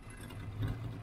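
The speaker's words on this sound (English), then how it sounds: "Downpipe's blowing." Triumph Stag engine idling with a blowing exhaust downpipe, running slightly lean: a steady low rumble with a faint rattle, close by and alone, with no talk.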